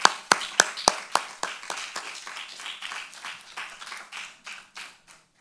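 Applause from the audience at an awards ceremony for a social media prize, opening with a few loud, sharp claps and thinning into a steady, fading patter of many hands.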